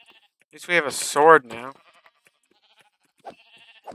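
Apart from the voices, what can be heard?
sheep bleating in Minecraft video game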